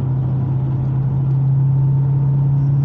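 Muscle car engine under throttle, a loud, steady close-up drone with a strong low hum held for a few seconds, no voices.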